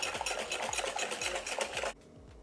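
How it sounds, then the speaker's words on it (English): Double cream with sugar being whisked in a bowl for a mango passion fruit cake, the whisk rattling and scraping rapidly in a steady rhythm close up. It stops abruptly near the end. "add 2 to 3 teaspoons of sugar to this, and then just whisk it until it's formed soft peaks"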